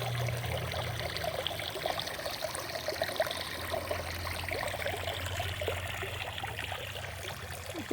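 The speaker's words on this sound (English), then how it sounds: "I think her water fountain needs to be cleaned." Water from a garden pond fountain trickles continuously, a steady bright splashing and dribbling heard up close, with a low hum underneath.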